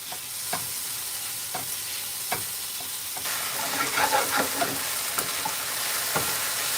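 Water sizzles and crackles steadily in a hot pan, with a few sharp scraping stirs and bubbling pops throughout.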